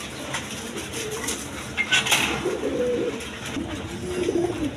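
Caged pigeons kept for sale, a pair with a young chick, coo in a continuous low rolling murmur close by, with light clinks and rustles around them.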